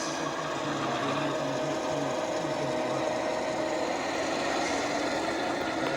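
HO scale model locomotive from an early BN coal, oil and mixed freight layout, running with a steady whirring motor hum and faint mechanical rattle, close and constant throughout, with no talking.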